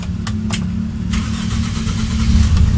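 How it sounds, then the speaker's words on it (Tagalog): A car engine started by a homemade RF remote alarm system cranks and catches, then settles into a steady, loud idle close by, with a few sharp clicks near the start. "So, nag-i-start yung makina ko ngayon."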